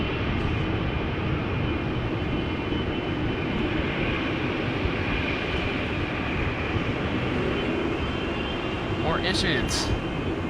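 A KLM jet bound for Lima taxis toward the runway at rainy Amsterdam Schiphol, a steady distant engine rumble holding evenly throughout, with a brief spoken remark near the end.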